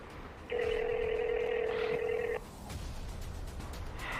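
A single steady electronic telephone tone sounds for about two seconds, then cuts off, leaving a low background hum.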